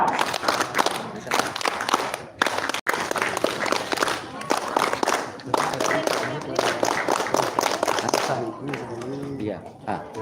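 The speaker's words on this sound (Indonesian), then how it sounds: "Dua kali tepuk pramuka." A group of scouts performs the rhythmic Pramuka clap at the close of a scout camp ceremony, sharp clap patterns running through a dense wash of crowd voices and shouting for most of the stretch.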